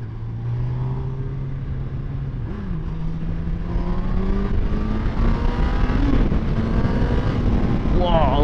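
A 2018 Honda CB1000R+ motorcycle pulling hard in sport mode, its engine note climbing steadily in pitch through the gears, loud and close with heavy wind rush around it.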